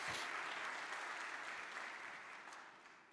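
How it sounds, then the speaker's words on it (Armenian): A church congregation applauds during a sermon, a soft wash of many hands clapping at moderate distance, steady at first and slowly tapering off. "եկեք ծափարենք մեր Աստծուն"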